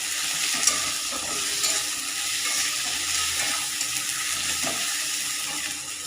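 Tomatoes and boiled potatoes frying in a pan for egg curry, with a loud, continuous, close-up sizzle and crackle and faint stirring scrapes underneath.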